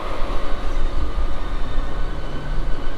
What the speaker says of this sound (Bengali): ট্রেন সম্পূর্ণ লিলুয়া প্ল্যাটফর্মের বাইরের যে লাইন রয়েছে ওই লাইনের উপর থেকে কিন্তু ট্রেনটা আমাদের যাবে